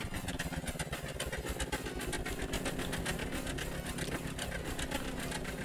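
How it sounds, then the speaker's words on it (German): Motor running in the video game Scrap Mechanic, a fast mechanical rattling hum with dense rapid pulses, steady and moderately loud throughout, no voices. "Ah, der wird jetzt von dem Motor angetrieben."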